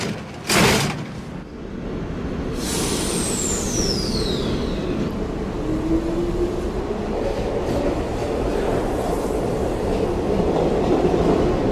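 A metro subway train runs on its rails on a city line, a steady loud rumble with clattering. A sharp knock comes early, followed by high metallic squeals sliding downward and a fainter whine later.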